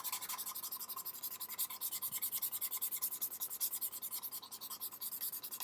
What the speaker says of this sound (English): you just have to keep sanding it until you see both sides of the ladder and the middle portion are similar in color